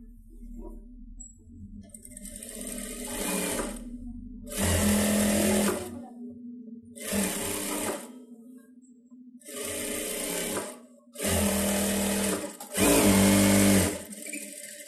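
A sewing machine stitches a round seam on a blouse in several separate bursts of loud close whirring, each lasting one to two seconds, with quiet pauses between them.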